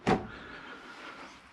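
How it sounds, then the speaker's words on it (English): A pocket door in a yacht ensuite, a 2017 Princess 52, slides open with a short thump at the start, followed by a steady soft rolling glide, close by. "This has got a pocket door, so that slides out of there"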